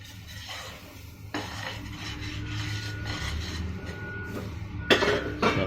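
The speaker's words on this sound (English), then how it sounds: "So mix it well" Dry-roasted sesame seeds being stirred into thick jaggery syrup in a pan, heard as scraping, rubbing strokes of a utensil against the pan with louder scrapes near the end.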